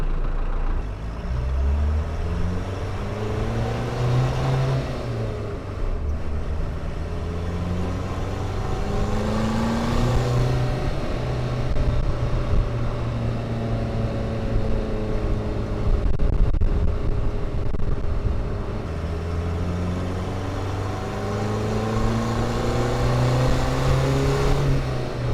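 A turbodiesel engine idling steadily after an injection pump swap, a close, loud, continuous diesel rumble with periodic rises and falls in engine speed, heard alone without talk.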